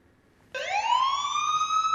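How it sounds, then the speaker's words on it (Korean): A siren bursts on abruptly and sweeps upward in pitch into a steady wail, loud and clear with nothing else around it. "이쯤에서 사이렌이 울려주네요."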